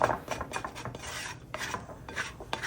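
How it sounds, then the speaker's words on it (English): A plastic bowl scraper rasps and scrapes dry bits of einkorn sourdough off the sides of a mixing bowl, several short close scraping strokes in an uneven rhythm with no talking. "I'm just going to use my bowl scraper here to start getting some of the dry bits off the side, working it into the dough gently"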